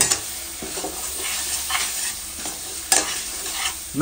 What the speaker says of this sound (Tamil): இந்த நெய்லயே வந்து பாத்தீங்கன்னா நம்ம அரைச்சு வச்சிருக்க தேங்காயை வந்து சேர்த்துடலாம்